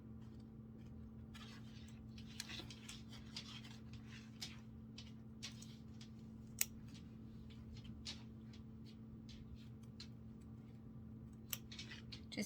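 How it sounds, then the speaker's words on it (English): Regular scissors snip small V notches into fabric corners, a series of quick, faint, crisp cuts in an irregular rhythm over a low steady hum, with no talking. "Which I typically will use my regular scissors for that."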